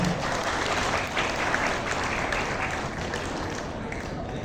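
A seated audience at an installation ceremony for polling-station staff in a hotel gives sustained, even applause, a thick continuous patter of many hands with no break.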